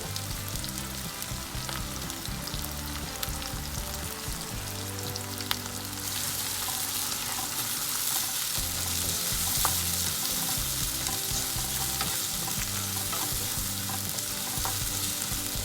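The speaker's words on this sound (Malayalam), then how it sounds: "ഇതും കൂടി ഇട്ടിട്ട് നന്നായിട്ട് മിക്സ് ചെയ്യണു" A Kerala thattukada-style vegetable curry frying in a pan, with a continuous close sizzle and steady scraping stirs that grow louder midway, and no one talking.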